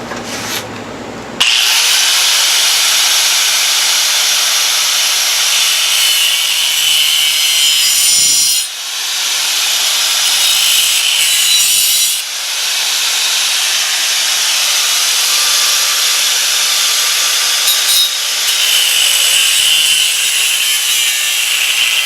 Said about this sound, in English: I'm going to cut at least a flat spot in this pulley here on each side